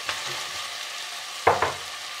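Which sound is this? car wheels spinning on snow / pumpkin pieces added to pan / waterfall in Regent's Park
pumpkin pieces added to pan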